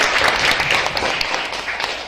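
Children in a classroom break into dense group clapping, a bright, sustained patter of many small hands that carries on for about two seconds.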